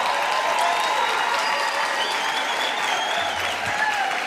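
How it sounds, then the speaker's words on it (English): A large audience at the 2019 UNAM graduation ceremony in Windhoek applauds the new graduates, producing continuous, dense clapping with faint cheers and whistles mixed in, sustained at an even level throughout. "Let's give them a round of applause."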